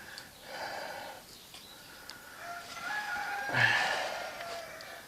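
Chicken clucking on Dartmoor, soft scattered clucks and a brief louder squawk near the end over steady outdoor background noise.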